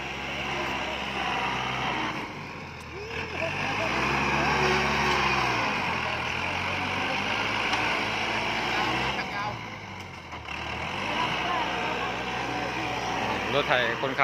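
A farm tractor driving across a soil dumping site, its engine droning steadily with pitch rising and falling as it works and moves, fairly close, with voices talking over it.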